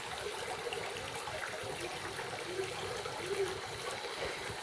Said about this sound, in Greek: Ωριάκι με νερό που τρέχει.